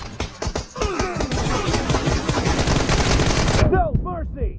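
Sustained automatic fire from an M416 assault rifle in the mobile game PUBG Mobile during a one-on-one team deathmatch, a dense rapid burst rattling for about three and a half seconds before cutting off into short echoing tails.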